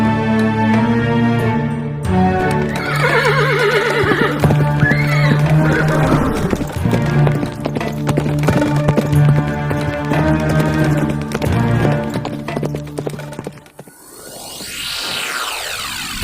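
Several horses whinny loudly and repeatedly over steady clip-clopping hooves and a bed of music, with a sweeping whoosh at the end.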